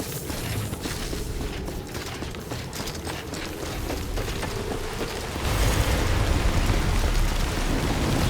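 Timefall rain in the Death Stranding video game, a dense continuous hiss and patter of rain with mechanical rattling textures, steady throughout and swelling slightly louder near the end, no voices.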